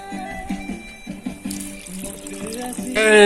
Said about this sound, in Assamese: চাউল ধুই আছো মই এতিয়া বৰ্তমান।